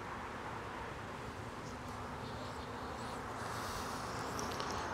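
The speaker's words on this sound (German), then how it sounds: "das sind Bienenmassen, das sind starke Völker" A strong honeybee colony buzzing steadily during a hive inspection of Langstroth and Segeberger hives, a dense continuous hum filling the space at moderate volume with faint background noise and no voices.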